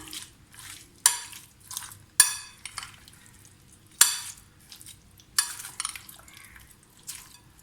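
A biryani masala marinade is mixed in a bowl with a spoon: repeated wet squelching strokes and sharp clinks against the bowl come in irregular bursts, close up and otherwise quiet.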